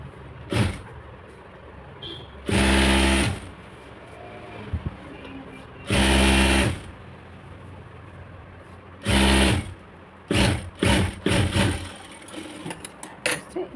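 A sewing machine stitches folded blouse fabric in several loud, steady bursts of rapid mechanical whirring, with short pauses and fabric handling in between.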